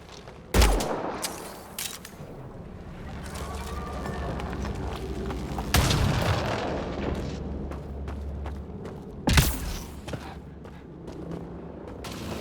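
Gunfire and a fuel cell blowing up in the video game Mass Effect Andromeda: a steady rumble of combat with three loud blasts spread across the scene, each followed by a short decay.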